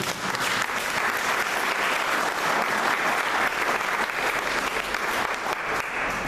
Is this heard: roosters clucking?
no